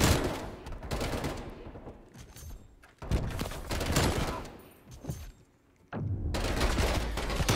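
Gunfire in the Call of Duty Cold War video game comes in three loud, rapid automatic bursts, each separated by a brief quieter gap, with faint voices in the background.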